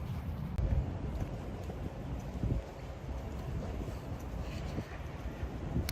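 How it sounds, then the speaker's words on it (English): Wind on a cold 40-degree day rushing over the microphone outdoors as a continuous low rumble with gusty swells, fairly loud and close, with no voice over it. "And the wind is making my eyes cry"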